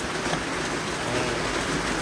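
Heavy rain pouring steadily, a dense, loud, continuous hiss of falling water with no breaks, close by and without talk.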